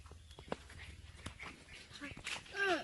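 A dog whimpers with thin, high rising whines near the end, amid scattered background noise and faint voices.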